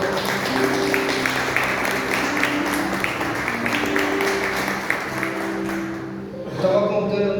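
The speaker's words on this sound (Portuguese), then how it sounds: "Dá uma salva de palmas ao Senhor" A church congregation claps together for several seconds, dense and steady over sustained musical tones, then fades as a voice begins near the end.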